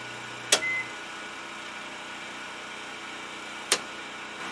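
A backup generator runs with a steady, even hum close by, broken by two sharp clicks a few seconds apart.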